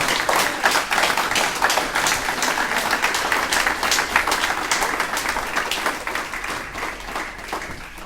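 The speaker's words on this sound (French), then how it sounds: "Je vous propose d'applaudir de nouveau Aurélie Martorell, qui le mérite vraiment." A crowd applauds at a public campaign meeting for the 2020 municipal election second round in Lorient, sustained, even clapping that stays loud and dense for about eight seconds.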